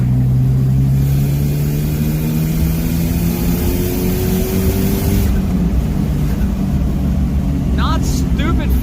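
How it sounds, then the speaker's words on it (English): Third-gear pull in a second-generation Eclipse GSX fitted with a 16G turbo: a loud, steady engine drone climbing in pitch for several seconds, then easing off, with a brief chirp near the end. "Do a third gear pull."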